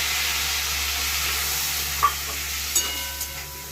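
Vegetables with dried lotte fish in mustard oil give a steady close hiss and sizzle after a splash of water, with a few faint clinks of a spoon near the end.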